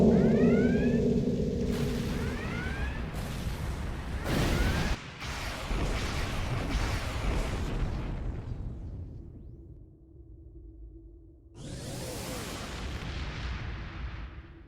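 A spread of starship torpedoes launches in a Star Trek Online space battle as a run of loud bursts and whooshing blasts. Sci-fi weapon effects sweep up and fade, and a final launch flares after a brief lull.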